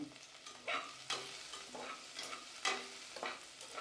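Shallots sauté with garlic and ginger for a mutton gravy, a quiet sizzle broken by repeated spoon stirs and scrapes against the pan at irregular intervals.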